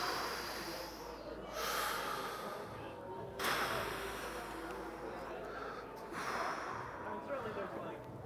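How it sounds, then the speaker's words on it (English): A person foam rolling at a gym breathes deeply, with three long, audible breath cycles of inhaling and exhaling, close and clear, with no talking over them. "taking big breaths in, and then exhaling."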